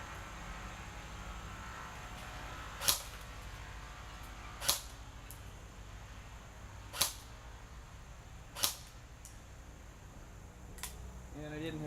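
Echo1 AK700 airsoft rifle firing at an outdoor range: four sharp, snappy shots spaced roughly two seconds apart, then a fainter fifth near the end, over a steady background hiss.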